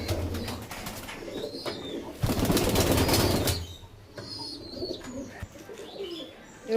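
Pigeons from a loft in Bengal coo softly at close range, a low murmuring coo with scattered chirps and a burst of wing flapping in the middle, with no talk over them.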